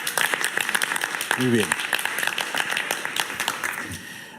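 A talk-show studio audience applauds a birthday guest with a continuous, lively patter of claps throughout, while a voice briefly speaks over it.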